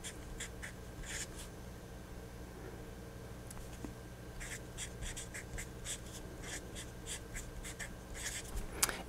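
Pen or pencil writing out a math homework solution, scratching steadily on paper in short strokes and bursts, close and fairly faint over a low steady room hum, with no talking.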